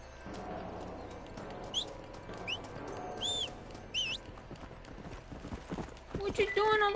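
Horse hooves clip-clopping in the video game Red Dead Redemption, a soft rhythmic trot alongside whistled calls and chirpy sounds, growing louder and busier toward the end.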